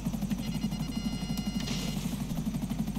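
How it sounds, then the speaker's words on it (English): A helicopter in pursuit in the GTA V video game, its rotor thumping in a steady rapid pulse over a low engine hum, moderately loud and without talk. "I've just seen there's a chopper in pursuit."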